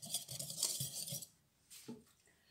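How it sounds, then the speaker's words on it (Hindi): A spoon clinks against a bowl while dry flour, white pepper and salt are mixed: a quick run of soft, close taps, a pause, then one last faint clink. "चले जी, इन ड्राई इंग्रेडिएंट्स को मैं अच्छे से मिक्स कर लूँगी।"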